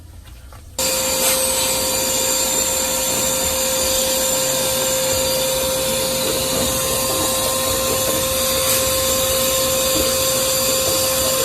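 A loud vacuum switches on and runs continuously with a steady whining roar and faint rattling as lint gets sucked out of a dryer vent.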